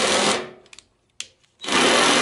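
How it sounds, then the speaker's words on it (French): Power drill re-drilling holes through a car body panel with a reinforcement behind it, a loud close whining burst that stops, a few faint clicks and scrapes, then the drill roars again. "je vais repercer les trous jusqu'à de l'autre côté"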